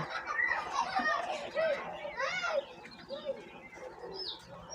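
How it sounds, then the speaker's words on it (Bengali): Quail call in short chirps and coos, several birds close by on a quail farm, mixed with people chattering in the background. "ছাব্বিশটা কয়েল পাখি আছে"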